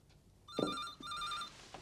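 A telephone bell rings in two bursts, each roughly half a second long with a short gap between them. It is fairly faint and heard in an indoor scene from a TV drama, with no one talking over it.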